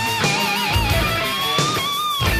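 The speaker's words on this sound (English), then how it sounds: "well then you should check out the Ibanez RG that sounds like this." Ibanez RG electric guitar played solo, bent and vibrato-laden lead notes over low chugging attacks, loud and close with steady sustain.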